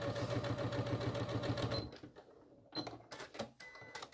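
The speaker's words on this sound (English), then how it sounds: "I'm going to sew up that whole line again." A sewing machine stitching a seam on a small bag, a fast, steady mechanical whir for about two seconds, then a pause and a few shorter bursts of stitching.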